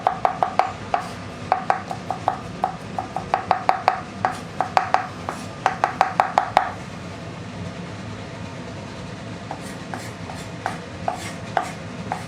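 A knife chops food on a cutting board in quick, irregular bursts of crisp, close taps. The chopping is dense for the first six seconds, then turns sparse over a steady background hum.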